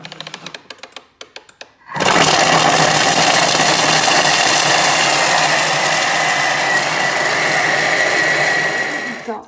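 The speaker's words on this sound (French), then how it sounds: "je ferme mon bol, je mets mon gobelet doseur et je vais mettre 10 secondes vitesse 7" A Thermomix runs at speed 7, mixing grated Comté cheese in its closed bowl: a loud, steady, high-pitched motor whir that starts abruptly after a few clicks and holds until it stops.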